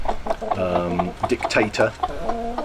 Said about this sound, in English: We're being assaulted by chickens now, okay?